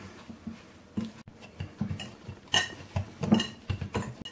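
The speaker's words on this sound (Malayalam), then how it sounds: "ഇനി നമുക്ക് നന്നായിട്ട് കൈ കൊണ്ടൊന്ന് മിക്സ് ചെയ്യാം" Pizza dough mixed by hand in a bowl, heard as steady squelching and rubbing with frequent light knocks and clinks against the bowl, close and fairly busy, with no talk.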